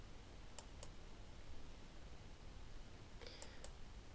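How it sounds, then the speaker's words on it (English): Computer mouse clicking through OneNote Class Notebook Creator software: two crisp clicks early, then a quick cluster of two or three clicks near the end, faint over steady background hiss. "Let's just click through and see how the new tool operates."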